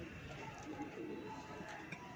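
Pigeons coo softly in a loft of flying pigeons, low murmuring calls running steadily through the short stretch over faint background noise.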